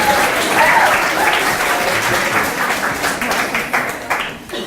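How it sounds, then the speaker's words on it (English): An audience at a college talk gives the speakers a warm round of applause, steady clapping of many hands that holds for several seconds before thinning toward the end. "If we get a round of applause for our speakers."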